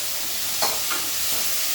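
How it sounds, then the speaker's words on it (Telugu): Tomato curry sizzling in a pan as a spoon stirs it, a steady frying hiss broken by two or three brief scraping swishes partway through, close and clear with no talk. "ఇట్లా మనం కలపాలి"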